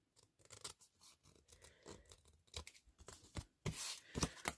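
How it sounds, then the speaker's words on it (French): Scissors snip through cardstock trimming the overhanging edge of a glued junk journal page, a close series of short crisp cuts and rustles that sharpen into louder slicing bursts toward the end. "on vient découper ce qui déborde de notre cardstock. On coupe ici. On coupe là."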